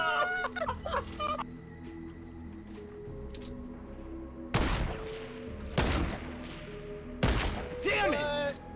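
Bursts of gunfire in the video game Fortnite, with three loud volleys cutting in over a busy mix of game sounds, chirps and a voice talking.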